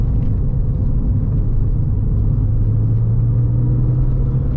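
A Porsche 996 4S pulls out of tight hairpin bends, its engine giving a loud, steady, close-up drone under smooth, progressive acceleration with no talk.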